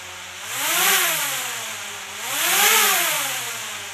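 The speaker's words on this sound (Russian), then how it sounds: "Запустим сначала двигатели. Стики вниз и вместе." DJI Tello mini drone motors starting and running indoors, a close, steady high-pitched whine that swells and fades twice in slow waves, alone without talk.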